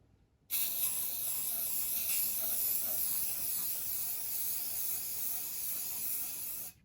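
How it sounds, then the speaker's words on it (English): An aerosol can sprays blue paint in one long, continuous hiss lasting several seconds, close and steady, then cuts off abruptly. "we're just gonna spray paint the blue and make that nice clean star"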